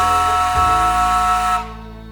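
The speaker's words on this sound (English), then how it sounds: "Gastown also features a steam-powered antique-style clock built in 1977, which whistles every hour to tell you the time." The steam-powered clock in Gastown, Vancouver, built in 1977, gives a loud sustained chord of whistles that holds steady, then shifts and cuts off, leaving a fading hiss.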